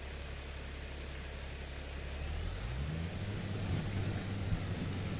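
Steady rain falling in Farming Simulator 25, a broad even hiss with a low tractor engine hum rising underneath partway through, no talking.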